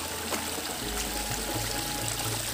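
Mountain spring water flows strongly inside a house, a constant rushing, trickling wash of water that fills the whole scene close by with no break.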